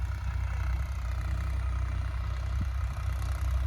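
A tractor engine pulls a plow through a farm field, a steady low diesel rumble that stays loud and unbroken throughout, with a little mechanical clatter over it.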